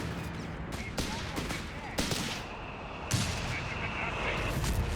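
Mortar rounds land in a Company of Heroes 3 battle in a series of sharp, booming impacts about a second apart, over a constant bed of combat noise.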